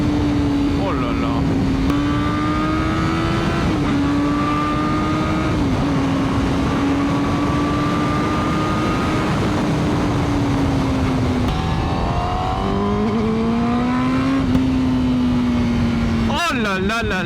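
A Honda CBR1000RR-R sport motorcycle accelerates hard, its engine and exhaust howling through rising and shifting revs for a long stretch, loud and close, with someone talking excitedly over it.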